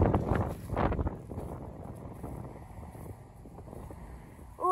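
Cold wind gusting through a rural cemetery in Dawson County, a steady low roar buffeting the microphone, strongest at first and then easing to a softer rushing blow.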